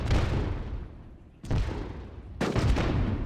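Booming artillery fire in the real-time strategy game Rise of Nations, three heavy blasts about a second apart, each followed by a rumbling decay, loud and without speech.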